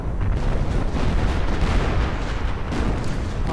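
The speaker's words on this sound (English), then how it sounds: "And I hear heavy artillery." Heavy Soviet artillery fire in an Eastern Front mod of a WWII strategy game, heard as a dense, rumbling barrage of overlapping booms rolling on without a break.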